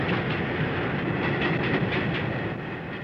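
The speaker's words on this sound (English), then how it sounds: "The passage of a train shows how the old structure of the 1860s reacts to the heavy" A heavy train rumbles across the 1860s Grosvenor railway bridge over the Thames, a dense, loud, continuous roar with faint rhythmic clatter of wheels, no voices.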